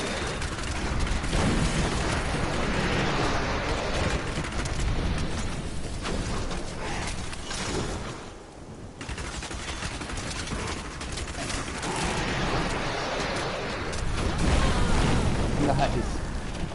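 Blasts and crackling bursts rumble almost without pause through Diablo 3 gameplay, loud and dense, easing briefly in the middle before building again. Voices are heard over the din.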